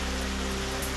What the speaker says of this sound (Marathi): परभणीमध्ये जोरदार पाऊस.